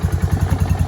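A Polaris Ranger fitted with a quiet exhaust mod chugs close by in quick, even low pulses, a steady throbbing idle with a slight rev.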